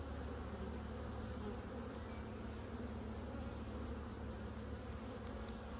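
Honeybees buzz steadily around an opened hive, a dense, even hum of many insects filling the whole stretch without pause or voices.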